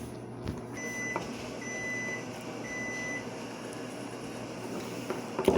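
A microwave oven finishing after heating milk for hot chocolate gives a few steady, moderate electronic beeps over a constant hum and room noise.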